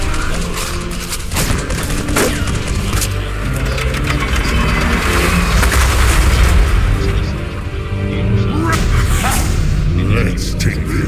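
Rapid gunfire and heavy booms in a World of Warcraft battle, a dense, continuous volley of shots and blasts running loudly throughout with voices mixed in.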